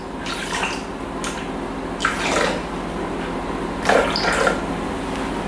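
Water pours into a Thermomix bowl, a steady rushing splash with a few brief louder gurgling bursts, close and alone without talk.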